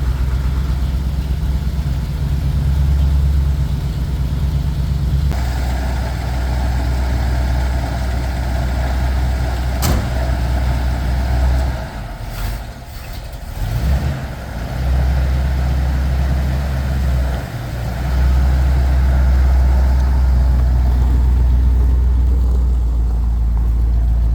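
An old Ford F100 truck with a carburetor runs after a cold start following months of sitting, a loud, close, low rumbling engine with rough idle that dips and stumbles briefly midway before steadying again.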